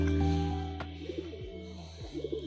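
A racing pigeon gives soft throaty coos, a few short rolling phrases heard behind a sustained humming drone, fairly faint and nearby.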